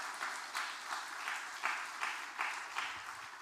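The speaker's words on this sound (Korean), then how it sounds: "박수 한번 해주시기 바랍니다" A church congregation claps together at a Parents' Day Sunday service, a soft, distant patter of applause rising in a few uneven swells over about three seconds.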